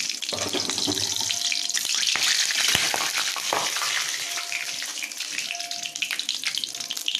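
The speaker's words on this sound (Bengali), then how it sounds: "কালো জিরে, 2টো শুকনো লঙ্কা ফোড়ন দিলাম" Black cumin seeds and two dried red chillies tempering in hot oil for fried greens, a dense, continuous crackling sizzle close up, with no talking.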